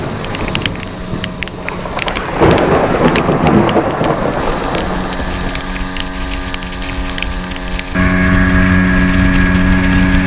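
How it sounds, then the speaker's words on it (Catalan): Heavy tropical rain pours down in the Amazon jungle near Puerto Nariño, a dense, loud, steady hiss with a droning motor-like hum beneath it. The roar swells partway through, and no one speaks. "La pluja no ens abandona i de retorn a Puerto Nariño podem comprovar la seva força."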